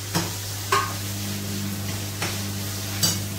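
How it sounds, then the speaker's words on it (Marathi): Tomatoes sautéing in a pan with onions for a mixed vegetable dish, a low steady sizzle with a few distinct stirring scrapes of a spoon against the pan at irregular intervals. "आणि टोमॅटो चांगला परतून घ्यायचा आहे."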